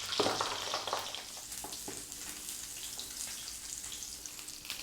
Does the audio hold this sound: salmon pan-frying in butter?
yes